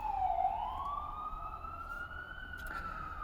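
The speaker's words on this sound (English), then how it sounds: "you also can hear a New York City noise from the streets, sirens, stuff like that." A New York City street siren wails steadily at moderate distance, its pitch sweeping slowly upward over a low rumble of street noise.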